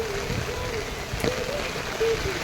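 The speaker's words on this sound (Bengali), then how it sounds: "তোমরা হয়তো আমার আশেপাশে নয়েজ শুনে হচ্ছে বুঝতে পারতেছো যে কতটা পরিমাণ বৃষ্টি" Heavy rain pours down outdoors on people sheltering under umbrellas, a dense steady hiss throughout with a faint wavering tone drifting over it.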